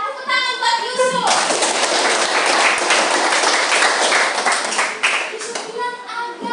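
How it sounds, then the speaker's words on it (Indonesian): A burst of applause from a classroom of students fills several seconds, with a voice speaking Indonesian just before it starts and again as it fades. "tepuk tangan buat Yusuf"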